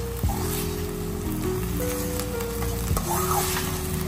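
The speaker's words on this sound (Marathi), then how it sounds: "आता मस्त याला आपण परतून घेऊ" Sprout chilli sizzles in a pan after a splash of vinegar, a dense, steady frying hiss that carries on throughout, with a few soft stirring clatters near and upfront.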